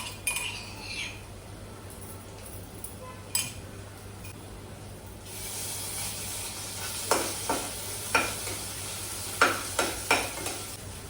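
Ginger-garlic paste sizzles in a pan for a mutton tomato curry, with a spoon scraping and clinking against the pot in a few sharp taps.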